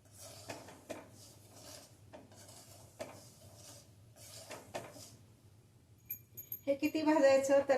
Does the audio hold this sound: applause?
no